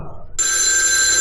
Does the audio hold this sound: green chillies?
no